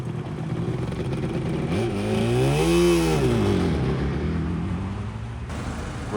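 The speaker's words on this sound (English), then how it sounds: "Got that Suzuki rolling out. Two-stroke goodness." A Suzuki two-stroke motorcycle pulls away at a classic car and bike breakfast meet, its engine rising in pitch and then falling as it passes by, moderately near over outdoor background noise.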